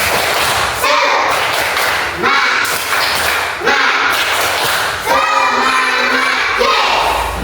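A class of schoolchildren performs a rhythmic spirit clap, with loud, crowd-like bursts of clapping, thumping and shouted chanting that repeat in short phrases.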